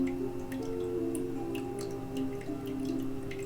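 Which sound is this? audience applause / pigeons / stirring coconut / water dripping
water dripping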